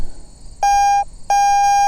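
A Garrett AT Pro metal detector in standard mode gives two loud, steady electronic tones, each held for about a third of a second with a short gap between, clear and close, with no talking.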